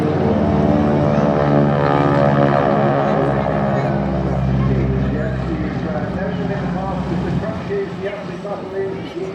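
A wingwalking biplane display aircraft flies at a seaside airshow, its engine drone steady, loud and continuous, close by and slowly fading toward the end.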